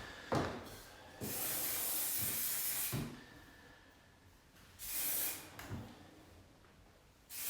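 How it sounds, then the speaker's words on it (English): Hairspray hisses from a can in bursts, first a short spritz, then a longer steady spray, then another pair of sprays after a pause, close and sharp amid small clicks. "Where's the hairspray?"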